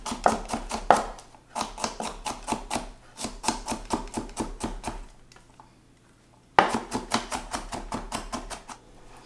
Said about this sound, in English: we will chop our garlic cloves